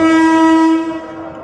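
A loud, steady horn of an arriving KRL commuter train bound for Cikarang blares for about a second, then cuts off, leaving the low rumble of the train rolling nearby.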